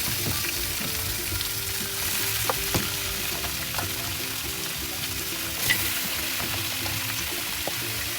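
Marinated duck pieces, seasoned with soy sauce, seasoning mix and black pepper, fry in a pan with a steady, close sizzle. Occasional soft clinks and stirring sounds break through it. Nobody speaks.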